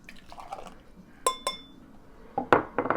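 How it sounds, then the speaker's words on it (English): Coffee poured from a cup into a glass at home, with a few sharp glassy clinks and short liquid splashes near the mic, ending in a brief burst of pouring and clatter. "I'm going to go ahead and just pour it into my glass here."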